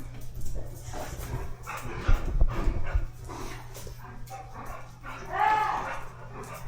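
A dog, jumping up and dropping something, barks and whimpers in short yips and bow-wows, loud and close, with a long high whine near the end over a steady low hum.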